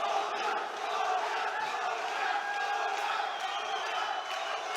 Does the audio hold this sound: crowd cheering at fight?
yes